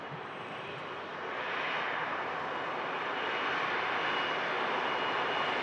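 Airbus A330 vacating the runway at Manchester Airport, its engines a steady broadband roar heard from a distance that swells slightly after the first second and then holds.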